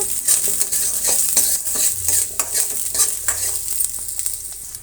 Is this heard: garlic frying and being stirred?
yes